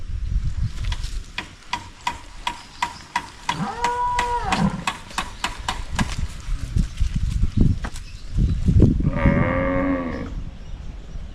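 Cattle and water buffalo on a Filipino farm, with repeated clicks and knocks, a couple of lowing calls in the middle and near the end, and rustling farmyard noise throughout.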